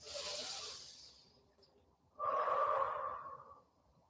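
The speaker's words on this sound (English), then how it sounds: "2 nice big inhale exhales for me." Two deep breaths during a full-body stretching and mobility session: a long, airy inhale followed after a short pause by a fuller, louder exhale, close and without talk.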